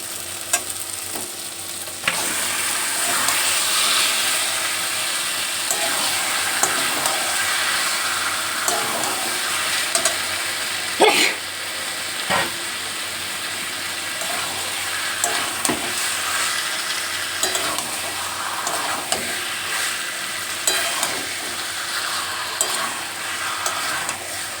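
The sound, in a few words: marinated meat frying and being stirred in a pan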